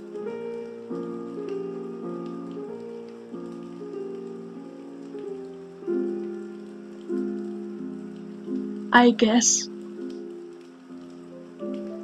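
Steady rain patters in the video game If On A Winter's Night, Four Travelers, a soft continuous wash under sustained tonal backing, with a brief voice cutting in near the end.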